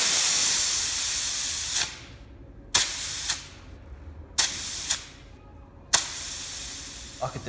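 Air ride suspension bags on a Ford Transit Connect van fill and vent through a 1/4 inch hose, producing a long hiss followed by a series of sharp, short air bursts and pauses, heard up close.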